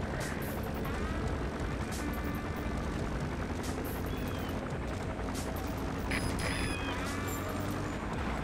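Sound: helicopter patrolling overhead in Metal Gear Solid V video game

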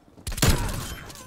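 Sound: grenade explosion in the video game Black Ops

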